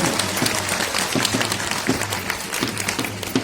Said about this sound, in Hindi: आप सभी दर्शकों से अनुरोध है कि जोरदार तालियों से जवानों का उत्साहवर्धन करें।